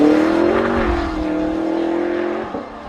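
A Lexus GSF sports saloon's engine holds a steady, fairly loud drone that dips slightly partway through and ends with a soft bump near the close.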